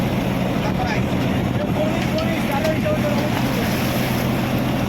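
A fishing boat set up for net fishing moves out on open water, its engine a low, steady rumble under wind and splashing waves, with voices talking nearby.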